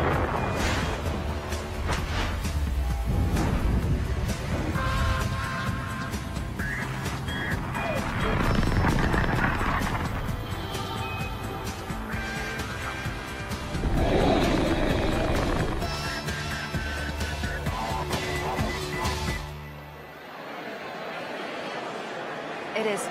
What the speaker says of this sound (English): liftoff is Falcon 9